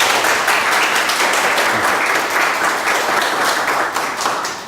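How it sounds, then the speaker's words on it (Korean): Audience applause thanking the guest speaker at an invited seminar on agriculture and ICT: dense, loud clapping from a room full of attendees, sustained throughout and easing slightly at the very end. "오늘 저 유익한 변화를 주신 김 박사님께 감사의 박수로"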